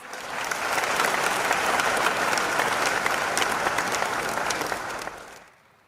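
An audience at a university agricultural anniversary ceremony gives a round of applause, thick sustained clapping that builds quickly, holds steady for several seconds, then stops abruptly.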